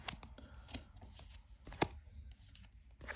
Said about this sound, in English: Drawing 4 more cards.